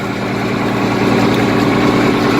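A 1586 tractor engine runs at about half throttle, giving a loud, steady, low mechanical drone that stays unchanged for the whole stretch with no voices.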